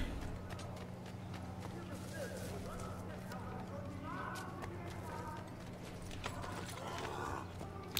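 Horse hooves clip-clop steadily under a ridden horse in Assassin's Creed 3, a continuous trotting patter mixed beneath game ambience and a constant low hum, with someone talking over it.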